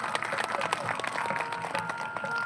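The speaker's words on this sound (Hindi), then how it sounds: "जरा इनके लिए तालियां बजाएं।" Audience applause at a satsang gathering, a fairly quiet but steady patter of many hands clapping with scattered sharper claps, continuing for a couple of seconds.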